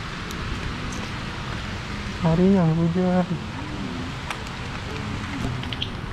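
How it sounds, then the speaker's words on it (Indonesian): Rain falls around an old traditional Banjar house in Teluk Selong Ulu, Martapura, a steady dense hiss throughout, with a voice speaking briefly over it partway through. "Ini kehujanan"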